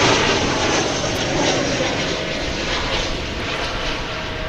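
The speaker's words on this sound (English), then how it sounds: "Off to Los Angeles goes American Flight 2746, 737-800." An American Airlines Boeing 737-800 takes off at Dallas/Fort Worth airport, its jet engines giving a loud, continuous broadband roar that stays steady and close throughout.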